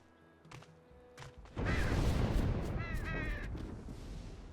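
Ravens in the puzzle-platform game Unravel caw loudly after a sudden crashing burst, two harsh caws standing out over a rushing, noisy backdrop.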